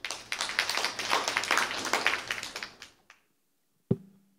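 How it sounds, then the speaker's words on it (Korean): A symposium audience claps for a speaker at an academic event marking 30 years of Korea-China relations. A quick burst of many hands dies away after about three seconds, then a single sharp knock follows in near silence. "큰 박수 부탁드립니다"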